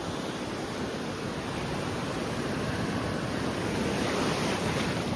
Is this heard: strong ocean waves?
yes